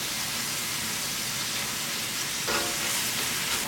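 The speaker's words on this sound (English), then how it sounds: "Keep stir-frying for another 1 to 2 minutes until the peppers soften slightly" Peppers and minced pork stir-fry in a hot pan, a steady continuous sizzling hiss with a brief clatter of stirring near the end, no voices.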